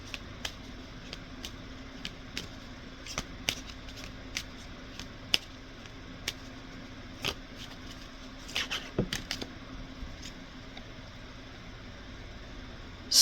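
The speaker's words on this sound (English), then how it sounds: "Let's pull one more card from this deck here." Tarot cards shuffled and drawn from a deck, with soft intermittent riffles and flicks over a quiet hiss, and a brief cluster of quick card snaps near the end.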